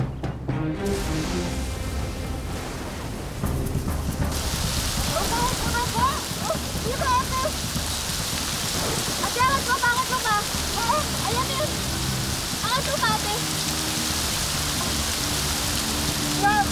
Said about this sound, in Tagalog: Mukhang babagsak na yung ulan.